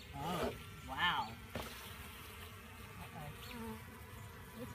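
Angry honey bees swarming around a beekeeper's head at an open hive, a close, faint buzzing drone with wavering pitch that swells and fades, over quiet background hum.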